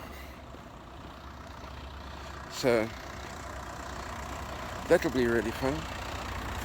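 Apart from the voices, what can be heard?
Ulster bus passing by on road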